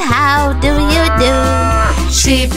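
A cow moos in a loud, drawn-out call within a children's nursery rhyme song, sounding sustained and tonal over a steady musical backing.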